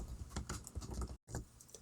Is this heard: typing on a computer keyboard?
yes